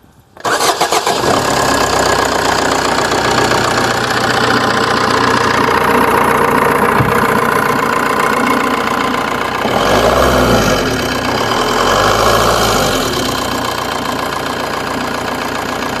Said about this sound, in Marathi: तर अशा प्रकारे डिझेल इंजिनचा काही आवाज असतो